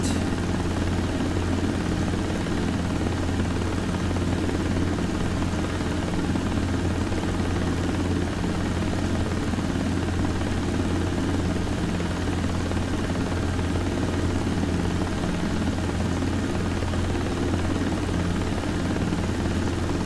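A helicopter rotor and engine drone steadily in a desktop flight simulator, a loud, unbroken low hum with a buzzing edge that continues unchanged for about twenty seconds.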